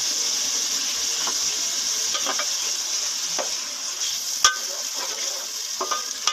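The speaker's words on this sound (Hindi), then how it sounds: "अदरक लहसुन डाल के 5 मिनट तक इसको भूनें।" Minced meat with ginger and garlic frying in a pan, giving a steady close sizzle broken by occasional stirring clinks and scrapes, with no talk.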